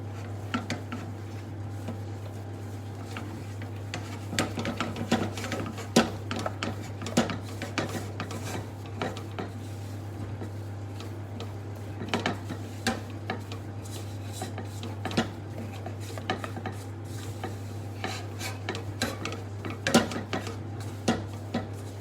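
Self-raising flour and cocoa powder mixed in a bowl for chocolate crunch, a close, continuous run of rubbing, scraping and light clinking strokes from a utensil against the bowl, over a steady low hum and with no talking.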